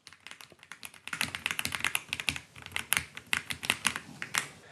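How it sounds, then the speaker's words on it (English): Rapid clicky keystrokes on a GravaStar Mercury K1 mechanical keyboard, close up, in a fast uneven rhythm that grows busier after the first second. "These mechanical switches from GravaStar sound really nice."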